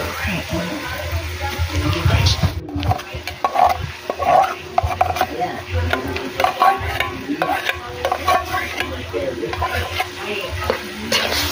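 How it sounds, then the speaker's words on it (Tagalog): A spoon stirs grated green banana and spinach stems in a pan with a little water, giving close scraping and sizzling sounds in irregular bursts, with faint talk now and then. "Yan, halu-haluin muna natin."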